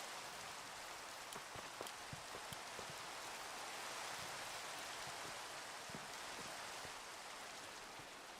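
Steady rain falling in a video game, a dense even hiss of drops on surfaces with occasional louder individual droplets, continuous and fairly quiet with no speech.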